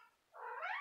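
A house cat purrs softly and closely in a brief rumbling swell at home.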